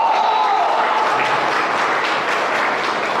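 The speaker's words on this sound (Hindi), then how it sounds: "क्लैपिंग अपने लिए।" A seminar audience claps steadily and densely throughout, a continuous wash of many hands at close range with no pauses.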